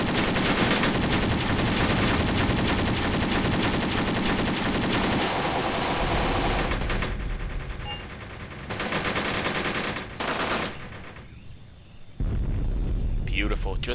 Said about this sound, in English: That's probably why our men are firing so vehemently over here.